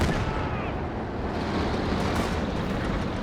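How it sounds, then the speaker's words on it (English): A heavy mortar shell strikes during a Company of Heroes 2 battle, heard as a loud, sustained roaring blast wash that fills the whole moment with dense rumbling noise. "Heavy mortar, big hit."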